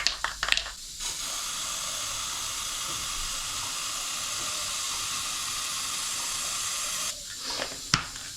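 Aerosol lacquer finish is sprayed onto a resin pen in one long, steady hiss lasting about six seconds, with short bursts and handling clicks before and after.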